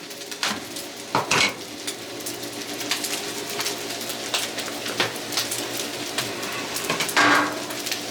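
A knife chops an egg roll in two on a hot Blackstone griddle amid a steady sizzle, with a few sharp metallic scrapes and clacks against the flat-top.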